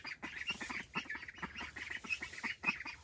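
Ducks quacking while being moved on a farm, a quick run of short nasal quacks from several birds, close and somewhat faint with no one talking.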